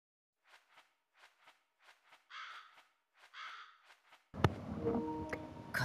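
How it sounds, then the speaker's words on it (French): Crow cawing in the video game Demon Slayer: The Hinokami Chronicles, a series of short repeated caws with a few longer rasping calls, followed by a burst of louder game sound. "Un corbeau sauvage."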